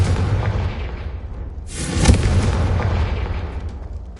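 A Confringo spell explodes in Hogwarts Legacy: a sudden, loud fiery blast bursts out of a low rumbling background, then a heavy roaring boom decays slowly over a few seconds.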